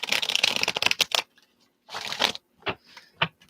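Tarot cards get shuffled by hand in close, crisp riffling bursts, a long flurry followed by several shorter shuffles separated by pauses, with no talking.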